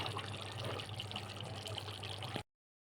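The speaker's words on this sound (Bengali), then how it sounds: "এখন আমি জল দিয়ে দেবো" Water poured into a pan of spiced fish curry, a steady soft splashing and pouring that runs for about two seconds and then stops abruptly.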